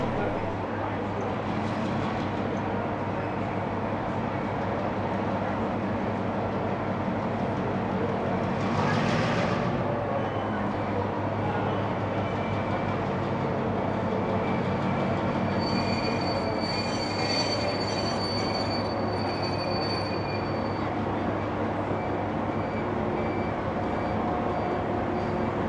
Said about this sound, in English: 4201 is seen pulling its train into Sydney after one of its shuttle trips to Hurstville